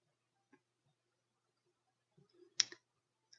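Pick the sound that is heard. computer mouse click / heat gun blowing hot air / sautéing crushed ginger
computer mouse click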